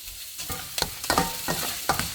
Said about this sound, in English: Stir it around because you don't want it really well cooked